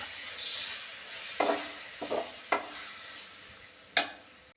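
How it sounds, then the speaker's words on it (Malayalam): Ground coconut is stirred into a chickpea curry in a pan, a soft continuous sizzle punctuated by four distinct spatula scrapes spaced a second or so apart. "അരച്ചു വെച്ച തേങ്ങ ചേർക്കാം നന്നായിട്ട് ഇളക്കാം"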